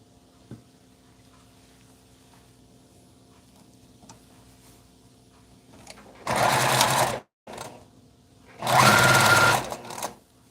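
A sewing machine stitches an Indian shirt in two loud, close bursts, the first about a second long, then a brief pause before a longer run of rapid needle chatter.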